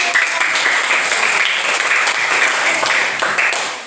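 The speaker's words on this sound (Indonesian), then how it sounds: "Tepuk tangan." Students in a classroom clap together after the winning group is announced, a dense, loud and continuous round of applause that lasts the whole stretch and fades slightly at the end.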